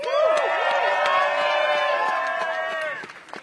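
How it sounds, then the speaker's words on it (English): A crowd at a rally protesting widespread layoffs at the Washington Post claps and cheers, a loud steady wash of sustained whooping voices over scattered claps that fades toward the end. "Everyone give Molly a round of applause."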